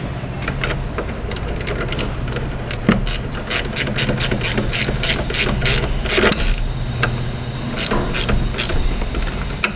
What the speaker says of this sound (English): Let's tighten up this battery cable.